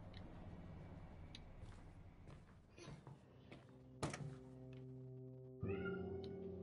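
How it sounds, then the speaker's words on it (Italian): A cat meows in the Layers of Fear 2 video game, a few distinct calls set among clicks and ticks with a lingering tonal drone, no talk over them. "Che palle sto gatto."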